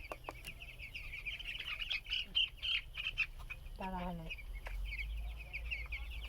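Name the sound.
10-day-old broiler chicks chirping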